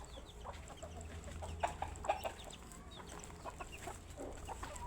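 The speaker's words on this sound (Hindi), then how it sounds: "अभी मैं मुर्गियां बढ़ा रही हूँ" Desi hens cluck softly and intermittently in a backyard coop, with occasional louder clucks and faint bird calls over a low steady background hum.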